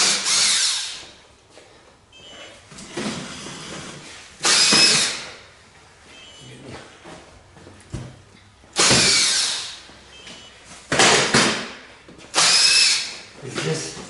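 An impact power tool pulls wheel bolts from a Caterpillar 797 haul truck, firing in several loud, sharp bursts separated by pauses filled with quieter workshop noise.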